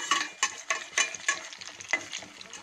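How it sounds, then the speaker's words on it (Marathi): Cheesy noodle pakodas deep-frying in hot oil until crispy, with a soft sizzle under rhythmic, evenly spaced stirring scrapes in the pan, close and moderately quiet. "अशा प्रकारे छान असे क्रिस्पी होतपर्यंत तुम्ही तळून घ्या"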